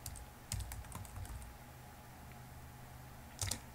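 Computer keyboard being typed on to enter a passphrase in a Linux terminal: a few soft, scattered key taps near the start and a short cluster near the end, with quiet room hiss between and no speech.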